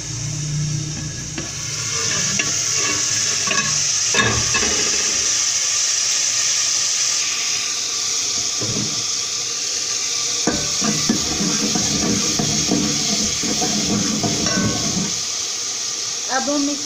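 Water and salt going into chana pulao frying in a pan, bringing a continuous sizzle and bubbling with scattered stirring clanks, close by under a voice talking.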